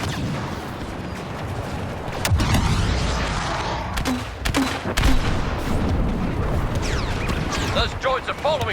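Blaster fire in the Star Wars Battlefront II battle on Geonosis, heard as dense, continuous shooting with booms and crashes under constant battlefield din, with voices talking over it.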